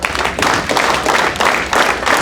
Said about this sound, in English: let's start the clapping